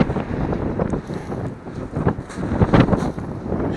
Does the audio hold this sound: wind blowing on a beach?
yes